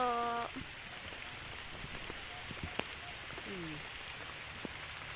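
Rain falls steadily in an overcast outdoor setting as a constant hiss. A few brief tonal chirps and faint clicks rise above the wash near the start and middle, and no voice is heard.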